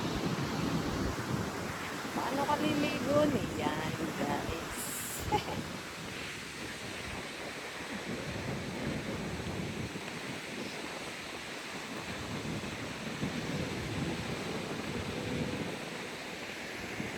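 Strong wind roars across an open beach with surf behind it, gusts buffeting the microphone in a constant rushing wash while a person speaks briefly early on.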